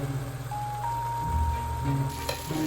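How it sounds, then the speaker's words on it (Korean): Bulgogi beef and vegetables stir-fried in a pan for pasta, giving a steady close sizzle with faint stirring and a thin electronic tone running through. "불고기 볶아서 파스타 같이 먹을 거예요"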